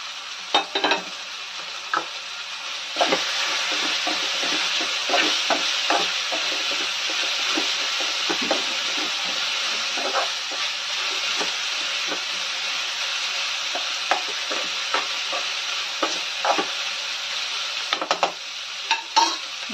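Cluster beans stirred in a hot pan, with a steady frying sizzle and hiss throughout and repeated scraping clicks from the spoon at a close, even loudness.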